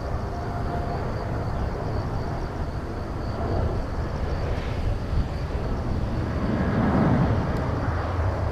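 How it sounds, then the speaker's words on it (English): Boeing's biggest Dreamliner passes at Incheon in Seoul, South Korea, giving a steady, moderately loud jet rumble that grows a little toward the end, with no talking. "There goes Boeing's biggest Dreamliner."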